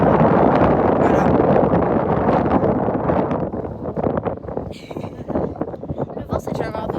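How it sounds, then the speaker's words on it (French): Strong wind at Gibraltar buffets the microphone in loud, rough gusts that ease off partway through, while people talk under the roar. "Bon, un petit peu de vent, mais c'est pas grave"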